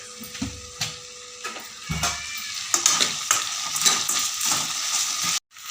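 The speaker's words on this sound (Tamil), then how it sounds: "தக்காளி வெங்காயம் எல்லாம் நல்லா வதங்கி எண்ணெய் பிரிஞ்சு வந்துருச்சு." Tomatoes and onions sautéing in hot oil in a pan, a steady close sizzle broken by scraping spoon strokes and a few clinks against the pot, ending in a brief abrupt drop to quiet.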